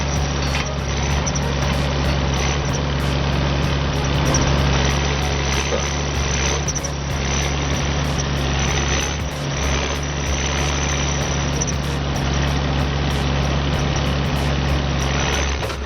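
A heavy diesel tractor, a 140-horsepower six-cylinder turbocharged PowerTech on anti-slip tracks and loaded with logs, labours stuck in mud, its engine droning steadily and loudly throughout with a low rumbling hum.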